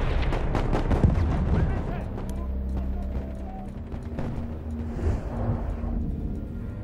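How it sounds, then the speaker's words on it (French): A grenade exploding in a Battlefield 1 multiplayer battle, heavy booming blasts and rapid gunfire in a loud, dense wartime din, with soldiers shouting in the mix. "Je lance une grenade!"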